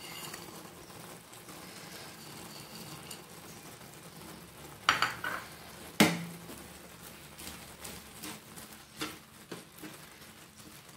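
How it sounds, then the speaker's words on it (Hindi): Dry fruits are stirred into sweet kimami vermicelli (sewai) in a pan, a quiet scraping of spoon and a few sharp clinks against the metal pan, with a soft patter in between. "अब हम इसमें ड्राई फ्रूट्स भी मिला देंगे।"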